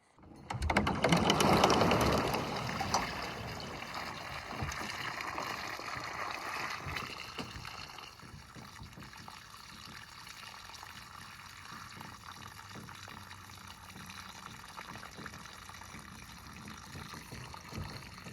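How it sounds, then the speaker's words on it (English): Rainwater drains out of a tipped boat in a steady watery rush, loudest at the start, then settling into a softer continuous trickle that runs throughout. "there's a lot of rainwater in here that has to get drained out"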